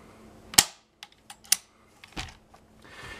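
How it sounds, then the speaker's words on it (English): The bolt of a World War II Lee Enfield rifle is pushed home, its bolt head lowered into place with a few sharp metallic clicks and snaps heard close up, separated by short silences. "lower that lever, lower the bolt head, and push it home"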